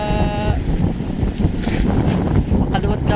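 Pacific Ocean waves slosh against a fishing boat amid constant wind buffeting and a churning wash. A brief tonal hum fades out at the start.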